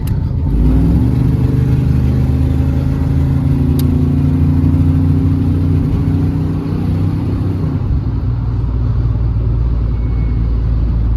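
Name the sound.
1992 Silverado with long tube headers driving on freeway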